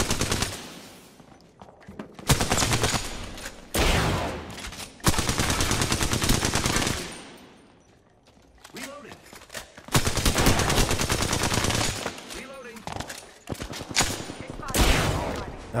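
Gunfire in Apex Legends rattles out in long, loud automatic bursts split by short pauses, with a quieter stretch in the middle and some faint talk in between.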